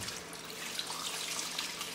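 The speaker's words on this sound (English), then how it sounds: "then we want to dump most of the water off" Water pours out of a tumbling container holding stainless steel pins and brass cases, a continuous splashing rush for about two seconds with no voices.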